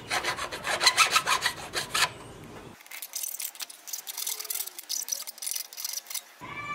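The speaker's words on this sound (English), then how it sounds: "Let's give this a quick deburr." Rapid rasping strokes of a hand file deburring the cut edge of metal, a dense scraping rhythm for about two seconds, then quieter handling noise follows.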